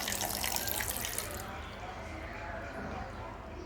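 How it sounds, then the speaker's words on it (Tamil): Water is poured from a glass into a blender jar holding aloe vera gel and ginger for an aloe vera sharbat, giving a bright splashing rush that cuts off after a second and a half. "அடுத்து ஒரு கிளாஸ் தண்ணி ஊற்றணும்."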